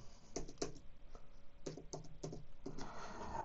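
Keys on a computer keyboard tapped in short, irregular clusters while a password is entered, close and fairly quiet, with brief pauses between bursts of keystrokes.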